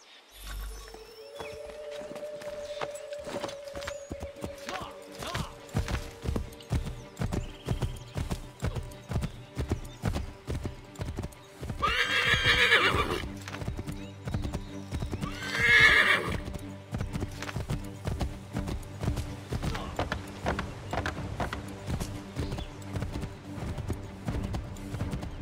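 A horse in the Assassin's Creed III video game gallops with a steady rhythmic clip-clop of hooves and neighs loudly twice along the way.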